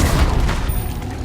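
Hogwarts Legacy spell effects from Confringo and Descendo being cast: dense, continuous roaring blasts with heavy low rumble, loud throughout and with no gap.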